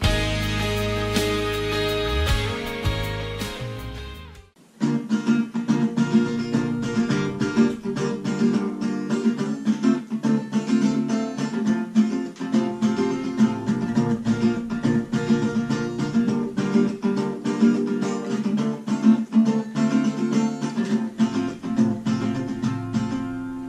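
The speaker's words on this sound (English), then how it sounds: "I will explain how to play this strumming pattern for the pre-chorus and the chorus," Acoustic guitar strumming the pre-chorus and chorus pattern of a song, a steady rhythmic run of chord strokes played close and alone after a brief opening passage.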